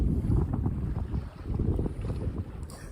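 Steady wind of under 10 knots buffets the microphone over the low rush and slap of water as a sailboat moves along, with no voices.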